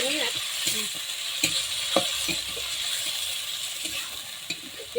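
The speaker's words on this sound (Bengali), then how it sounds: "এবার আমি এর মধ্যে সে পেস্ট করা মশলাটা দিয়ে দেবো।" Spice paste of ground ginger and other spices sizzles in a hot pan for khichuri, a steady frying hiss broken by intermittent scraping and clinking as it is stirred, close and without talk.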